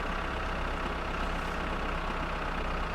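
A Kekmet tractor's engine in My Summer Car runs steadily, a continuous low, even drone heard alone without any voices.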